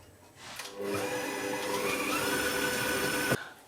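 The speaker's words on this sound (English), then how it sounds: "So I'll just mix those together for a few minutes on the stand mixer." Stand mixer beating fruit cake batter with eggs, allspice and vanilla: a steady, fairly loud motor whir that starts after a short pause and runs evenly for about three seconds before cutting off.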